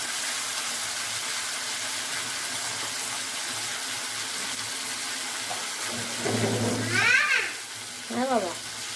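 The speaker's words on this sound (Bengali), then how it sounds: "তেলটা গরম হয়ে গেছে। এই যে আমার আলু পটল ভালো করে ধুয়ে নিয়েছি, এবারে আমি এটা ভেজে নেব।" Washed potatoes and pointed gourd go into hot oil, raising a soft steady sizzle, with brief voices and a couple of sharp squeaks near the end.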